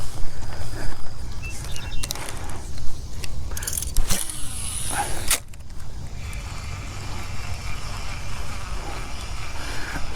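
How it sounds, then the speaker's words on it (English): A fishing reel's gears grind roughly as it is cranked fast to retrieve a buzzbait across a pond, a continuous gritty rasp that swells into a harsher stretch midway. "Sorry about the grinding of the gears."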